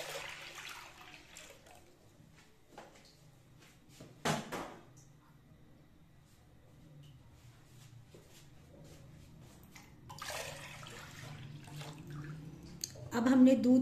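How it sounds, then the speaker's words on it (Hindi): Milk poured into a large open pot for Lahori gajrela: splashing liquid pours in bursts near the start and again later, with quiet gaps, a sharp knock and some clattering of cookware. "हम इसमें दूध ऐड करते हैं।"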